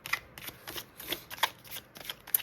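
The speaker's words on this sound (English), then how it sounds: "I am going to shuffle out a card for you for your overall energy check." A deck of tarot cards being shuffled, quick papery riffles and slaps repeating in uneven bursts, close and quiet with no talking.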